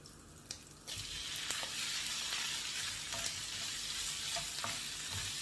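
Shrimp hit hot olive oil and butter in a pan and break into a loud, steady sizzle after a quieter start, with occasional crackles and spatters close by.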